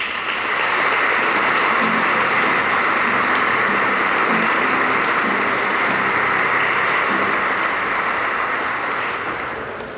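A congregation at Sunday Mass applauds in honor of the Virgin Mary, Mary Help of Christians, with dense, steady clapping that fills the church for about ten seconds before tapering slightly at the end.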